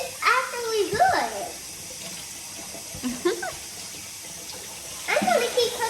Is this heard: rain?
no